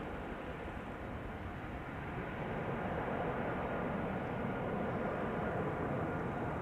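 Engines of an Embraer E2 airliner spooling up at Amsterdam Schiphol Airport, a steady deep roar that swells slightly and holds, heard from close range with no talk.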